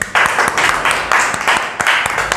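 Students clap for a classmate in a classroom, a dense, sustained burst of many hands with a short pause and some unevenness partway through, fairly loud and close.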